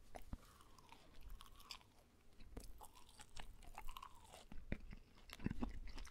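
Quiet, close-up chewing of a McDonald's Big Mac, with faint wet bites and occasional small crunches and mouth noises, no talking.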